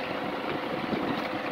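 A New Holland TD65 tractor engine runs with a steady, dense drone that holds an even level throughout, with no voices.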